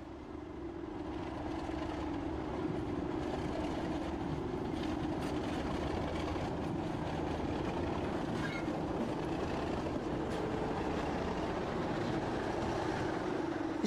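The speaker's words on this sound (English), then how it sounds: "The second train arrives, with the 37's characteristic growl." British Rail Class 37 diesel locomotive arriving with a train, its deep, steady engine growl rising and then holding loud and continuous alongside rail rumble and faint clatter, with no talking.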